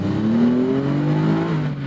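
A 1988 BMW M5 E28 engine revs hard toward 7,000 RPM, a loud, rising mechanical howl heard close up that climbs steadily in pitch, with no voices over it.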